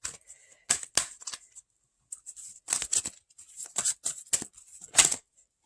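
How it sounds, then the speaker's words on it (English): Tarot cards being shuffled and one pulled from the deck: crisp papery riffles and snaps in quick bursts with short pauses, close and clear with no talk. "Let me pull one more card and see."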